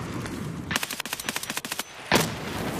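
Rapid automatic gunfire in the shooter game Escape from Tarkov, a loud close burst of about a dozen rounds followed by a single heavy shot, over constant background noise.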